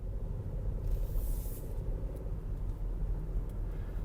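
A 2024 Hyundai Kona N-Line with a 1-liter, 120-horsepower engine being driven, heard as a steady, deep, low rumble of engine and road noise with a faint hiss on top and no talking.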